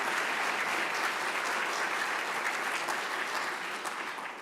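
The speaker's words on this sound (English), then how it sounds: "Join me in giving a round of applause to the Uyghur activists." An audience at an event on the persecution of Uyghur people gives a sustained round of applause for Uyghur activists, dense even clapping that fades slightly at the end.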